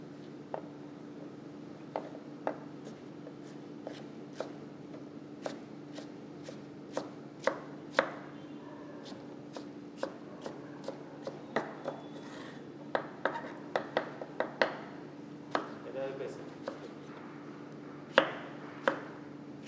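Cucumber being chopped on a board for a peanut salad, with crisp, close knife taps coming in irregular bursts, sometimes sparse and sometimes rapid, over a steady low hum and no talking.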